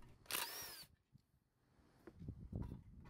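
A cordless power drill whirs in one short high-pitched burst while removing screws from a Troy-Bilt mower engine, followed by quieter clicks and handling noises of tools and parts nearby.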